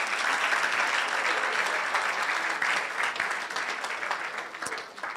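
A crowd claps at a national science and maths quiz championship launch event, steady dense applause that holds level before tapering off near the close.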